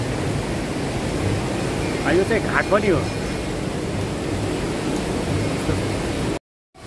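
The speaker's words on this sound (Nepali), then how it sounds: "यो पानी खोलाको आवाज" A swift river runs near a ghat by a temple, a steady broadband rush of flowing water. Someone speaks briefly over it partway through.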